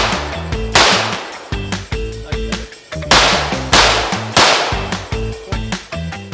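Pistol gunfire from a Glock 17 with a Lone Wolf Alphawolf slide and a 17-round magazine, shot outdoors. Loud, sharp shots come in a steady rhythm, roughly two per second, each with a short ringing echo.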